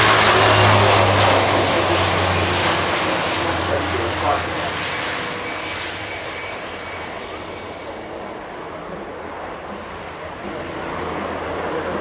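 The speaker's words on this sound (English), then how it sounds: "specialist of the C-27J Spartan, which is about to take off" Propeller drone of an Italian C-27J Spartan military transport aircraft before takeoff at an airshow, a loud broad roar that slowly fades into the distance over about twelve seconds, with faint voices underneath.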